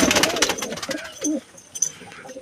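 A pair of Punjabi Malwai pigeons, a white male and a female, cooing in soft, low, repeated calls close by, with a few brief bird sounds between them.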